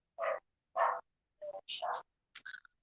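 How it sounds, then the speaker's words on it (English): Several dogs barking indoors in short separate bursts, five or six barks over a few seconds, moderately near with quiet gaps between them. "Y'all gonna hear the dogs barking in there."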